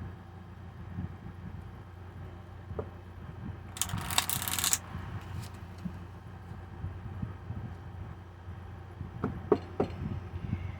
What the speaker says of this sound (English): Let's go ahead and get affirmation cards here.